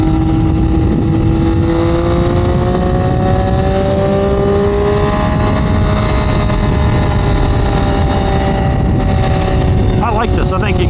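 A 2021 Triumph Daytona 765 Moto2 motorcycle being ridden: a loud, close engine wail that rises and falls in pitch through the gears, with a voice talking over it.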